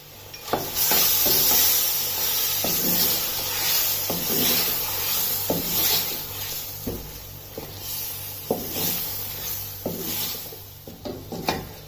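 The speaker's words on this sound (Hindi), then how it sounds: "अब लहसुन और अदरक के पेस्ट को इसमें 2 मिनट तक फ्राई होने देना है।" Garlic and ginger paste frying in a pan on fairly high flame for Bombay biryani, a steady close sizzle and hiss broken by repeated knocks and scrapes of stirring against the pan.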